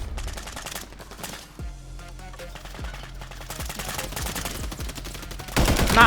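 Gunfire in Warzone, repeated close shots and automatic bursts with sharp impacts throughout, growing louder toward the end, with little talk.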